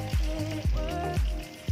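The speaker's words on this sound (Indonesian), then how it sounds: "Kalau udah panas, benar-benar panas, kalian bisa langsung masukkan bebek yang udah diungkep tadi ya." Marinated, pre-simmered duck hits very hot oil, crackling into a loud, close sizzle with four sharp bursts as pieces drop in, each settling into a steady fry with no talking.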